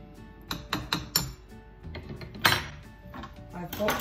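A spoon clinks against a pot or bowl while stirring yogurt into hot chicken soup, with several sharp taps early on and softer scraping after, close and fairly quiet.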